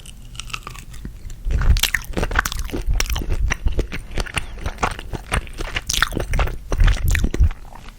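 Tiny shrimp are chewed right at the microphone, giving a continuous run of wet, crunchy bites and squishy mastication sounds, loud and close, with no talking.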